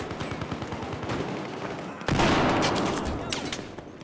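Gunfire in the Battlefield 4 video game: rapid automatic bursts at first, then a louder sustained barrage of overlapping shots and blasts, close and dense.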